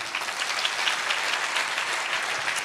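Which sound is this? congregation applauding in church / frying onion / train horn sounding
congregation applauding in church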